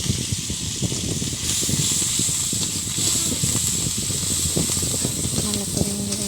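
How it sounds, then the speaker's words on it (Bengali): Onion paste sizzling in hot oil in a pan, a loud continuous hiss and crackle filling the whole stretch, close up and steady. "এবার ওই তেলে একটু পেঁয়াজ বাটা দিয়ে দেবো।"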